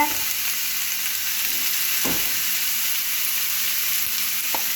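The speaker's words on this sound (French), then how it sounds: "Alors on laisse cuire et bien sûr on remue de temps en temps avec un petit filet d'huile d'olive" Vegetables sizzle steadily in a pan with a drizzle of olive oil and salt, cooking for a buddha bowl. A continuous, fairly loud frying hiss is broken by a few scraping stirs.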